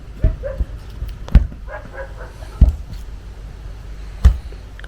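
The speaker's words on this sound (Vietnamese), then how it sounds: "Mấy chú chó cũng rất là thân thiện." Dogs at a rural farmhouse bark in four sharp, separate barks spaced about a second apart, fairly close and standing out over a quiet background with faint whimpering tones between.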